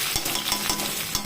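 Cumin seeds and curry leaves sputter in hot oil for a short tempering, a brief burst of dense crackling sizzle with quick rhythmic pops, close and fairly loud.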